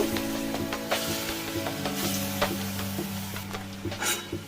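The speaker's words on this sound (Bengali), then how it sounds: "বাকি বড়াগুলো আমি এবার এক এক করে ভেজে নেব" Lentil fritters (bora) frying in oil in a pan, a steady close sizzle with occasional brief crackles and pops and a faint low hum beneath, no voices.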